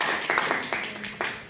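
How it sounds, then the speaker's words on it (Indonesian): A small group claps hands briefly during a career guidance counselling class session, with a few sharp distinct claps over a short burst. "Tepuk tangan dulu."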